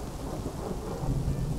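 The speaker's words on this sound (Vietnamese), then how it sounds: "Thi thoảng giữa bầu trời đen kịch kia, sấm chớp rền vang, một tia sáng lóe lên cắt ngang bầu trời" Thunder rolls through a heavy rainstorm, a loud, continuous low rumble under the steady hiss of falling rain, swelling slightly toward the end with no voices.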